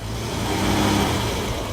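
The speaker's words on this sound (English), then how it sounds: "It's a bit of a group effort to extract this TR6." A classic Triumph TR6 with a single straight-through exhaust pipe revs loudly and steadily at close range at an evening classic car meet, its deep engine rumble sustained throughout with no talking.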